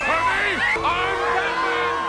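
Loud crowd cheering in Batman Forever, a dense wash of whoops, yells and shouting voices rising and falling together close up, with no gap across the whole stretch.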